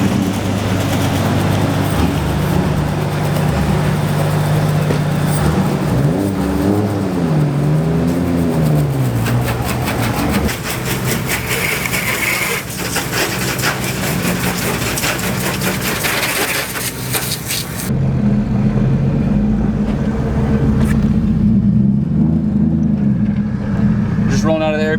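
A drift car drives off toward the track with a continuous low engine drone, rising and falling as it shifts and accelerates, loud and close inside the cabin, while people talk over it.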